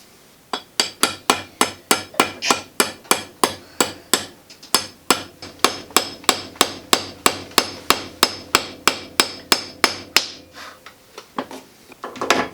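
Someone drives a metal wedge into the head of an old Plumb rafting axe handle with about thirty sharp, evenly spaced hammer strikes. The blows ring close and loud and stop near the end.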